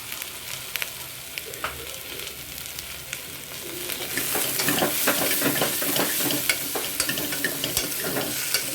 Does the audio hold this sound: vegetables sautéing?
yes